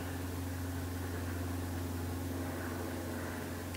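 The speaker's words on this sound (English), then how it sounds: "I apologize for any droning plane noises." A steady, low droning hum of an airplane overhead, constant and unbroken, with no voices.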